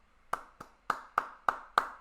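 Six sharp, separate hand claps at an uneven, slow pace, close and fairly quiet, with near silence between them.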